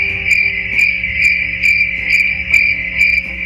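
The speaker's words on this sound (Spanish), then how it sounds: "Los grillos aumentan sus chirridos cuando aumenta la temperatura." Crickets chirping loudly and close in a steady, regular pulse of shrill trilling bursts, about two per second, with no other sounds.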